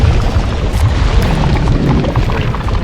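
An upgraded sonic resonator fires in the underwater game Subnautica 2, breaking metal deposits with a loud, dense, continuous booming rumble that stays strong and steady throughout, with no talking.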